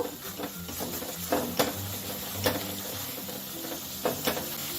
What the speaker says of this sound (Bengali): স্বাদ মতো নুন ও হলুদ গুঁড়ো ভালো করে সব মশলা কষিয়ে নেব